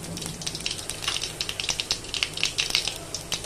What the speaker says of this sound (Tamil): தேவையான அளவு கடுகு போட்டுக்கோங்க. கொஞ்சமா உளுந்தம்பருப்பு